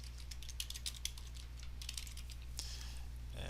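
Typing on a computer keyboard, a quick run of faint, close key clicks over a steady low electrical hum, with no talking.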